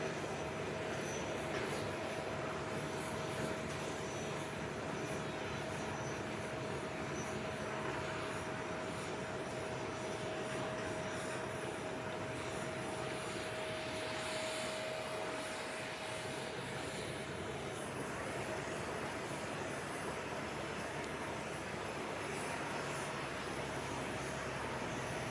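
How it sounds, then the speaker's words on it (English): An Airbus airliner's engines rumble steadily on the runway at an airshow, a constant distant roar with a faint whine, unbroken for the whole stretch and with no talk. "we'll just wait until the Airbus clears the runway"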